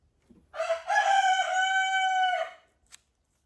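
A rooster crows once, loud and close, in a long drawn-out call of about two seconds, followed by a brief click and then quiet.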